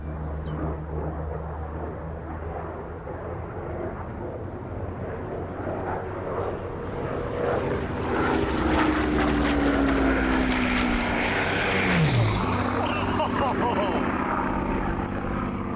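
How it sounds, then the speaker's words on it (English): A Hawker Hurricane, a WWII fighter flown in the Battle of Britain and still airworthy, drones overhead with a steady propeller engine roar that grows louder and shifts pitch as it passes, with faint voices beneath. "This is the only surviving Hurricane which fought in the Battle of Britain that is still flying today."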